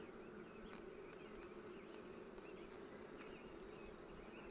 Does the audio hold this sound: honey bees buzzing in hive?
yes